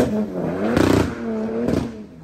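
A 500 hp rear-wheel-drive diesel car revs in the rain, its engine note rising and holding with two sharp bursts of roar, heard fairly close and without talk.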